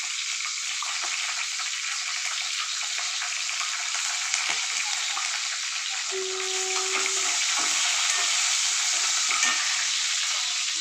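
Green chillies sizzle in hot oil as a broad, even hiss close by, with a short tonal ring partway through and occasional faint clinks, no speech over it.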